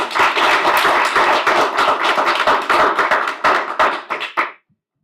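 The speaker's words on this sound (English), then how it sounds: "Ladies and gentlemen, round of applause for Mr. Pursuit." An audience claps for a speaker at a speaker series event, with brisk, dense applause that thins out into a few scattered claps and stops abruptly.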